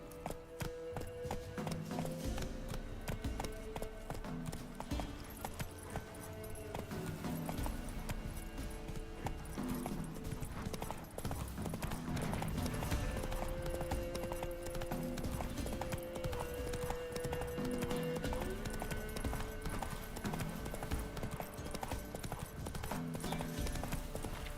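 Roach, the horse in The Witcher 3, trots with a quick, even clip-clop of hooves under steady game music, the hoofbeats continuing throughout and no one speaking.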